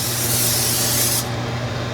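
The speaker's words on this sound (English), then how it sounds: "So we're going to give this a quick spray," Cooking spray hisses in one steady, loud burst onto a hot griddle before whole wheat pancakes go on, cutting off sharply after about a second with no talking.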